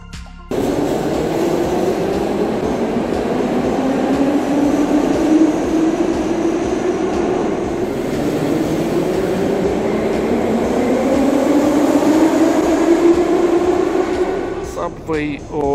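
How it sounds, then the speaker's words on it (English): A Dnipro, Ukraine metro train rumbles steadily along the track, its pitch slowly rising and falling, loud and close throughout, with a brief clatter at the end. "Metro in Dnipro City has the lowest passengers traffic in the world"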